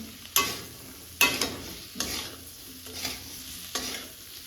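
Fried potatoes are stir-fried in a pan with onion, ginger-garlic-chili paste, salt and turmeric, giving a low sizzle broken by about five distinct spatula scrapes and knocks against the pan at regular intervals.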